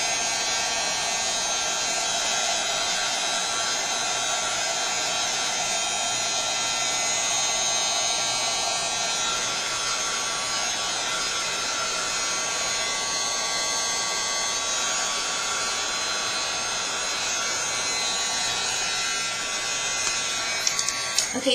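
A small handheld dryer blows on a craft yo-yo flower with a continuous, steady, high-pitched whirring buzz, close and constant throughout, cutting off at the very end.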